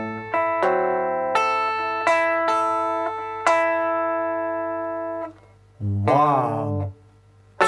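A fingerpicked rockabilly guitar lick: a handful of ringing plucked notes that sustain and overlap, then a short bent chord near the end, played solo and close.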